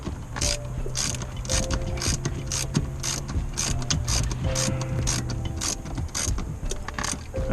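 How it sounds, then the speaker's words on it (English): Ratcheting clicks from a deep 10mm socket wrench loosening a clamp bolt during steering wheel removal on a 2003 Mercury Marauder, a steady run of close, rapid metallic ticks over a low hum. "I have a deep socket 10mm, and yeah, I'm gonna try to hold it, and it breaks free very easily"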